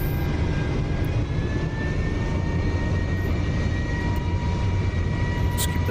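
F-35B jet engine held under power in the DCS flight simulator, a steady, loud roar with a faint rising whine running through it, continuous for the whole stretch.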